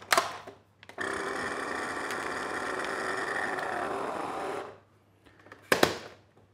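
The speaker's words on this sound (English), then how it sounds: "There we go, nice and vacuumed and sealed" A vacuum sealer works on a bag holding a ribeye steak, giving a steady, loud mechanical hum for about four seconds that then cuts off, with short clicks and clatters before and after.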